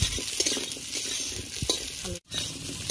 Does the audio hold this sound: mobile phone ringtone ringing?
no